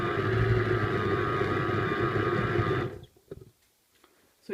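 A loud, steady motor whir of a Morphy Richards soup maker blending for about three seconds, then stopping abruptly, leaving faint clicks and quiet.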